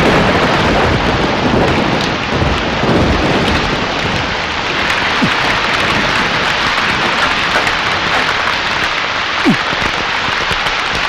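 Heavy, unbroken rain pours in a film thunderstorm, a dense loud hiss with low rolling rumbles of thunder underneath, heard alone without voices.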